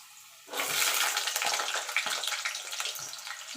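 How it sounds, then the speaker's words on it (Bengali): Potatoes drop into hot mustard oil and burst into a sudden loud sizzling hiss that holds steady and slowly settles, with no talk over it. "এবার তেলটা গরম হয়ে গেলে আলুগুলো ভেজে নেব।"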